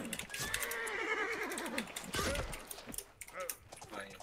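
A horse in the medieval online game Life is Feudal whinnies loudly with a long, wavering neigh, followed by scattered hoof and clatter sounds, while players talk over the game audio.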